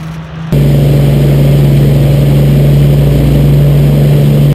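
A loud, steady droning roar of Rolls-Royce Merlin piston aircraft engines, including a Lancaster bomber's, kicks in abruptly and holds a deep, even throbbing tone throughout.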